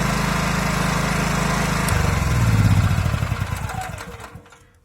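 A Pramac P3500i-o inverter generator running close by, a steady droning engine hum that rises in pitch and loudness midway, then winds down as it is shut off and fades to silence.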